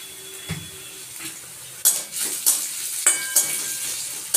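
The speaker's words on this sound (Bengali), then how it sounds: "একটু ভালো করে আমি ভেজে নেব মিডিয়াম ফ্লেমে 2 থেকে 3 মিনিট।" Food fries in a pan over a medium flame, with a steady sizzle broken by several sharp clatters and scrapes of a utensil against the pan.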